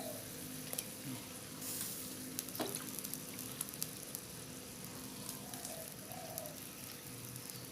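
Bananas simmer in syrup in a pot, giving a steady close bubbling hiss with soft popping crackles throughout, no talking.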